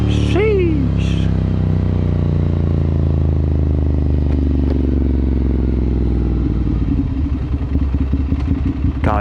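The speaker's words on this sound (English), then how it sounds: "you gotta love those V motors, those V twins" A Yamaha MT-09 motorcycle engine runs loud and close, with a steady droning note that shifts in pitch and a rougher, pulsing patch toward the end. There is no talk over it.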